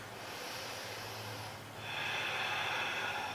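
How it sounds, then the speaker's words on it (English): A person does yoga golden flame breathing, taking a big, close, airy inhale and then a stronger, rushing exhale through the nose in a quiet room, with no talking. "inhaling and exhaling, nice big inhales and exhales, golden flame breath"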